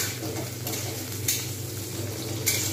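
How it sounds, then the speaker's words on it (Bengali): Onions fry in a pan with fenugreek and garam masala for a chickpea and potato curry, a steady close sizzle with a few brief scrapes of stirring over it. "আমি এইভাবে কিন্তু এটা যতক্ষণ পর্যন্ত না নরম হচ্ছে পেঁয়াজগুলো, আমি ততক্ষণ পর্যন্ত কিন্তু আমি অপেক্ষা করব।"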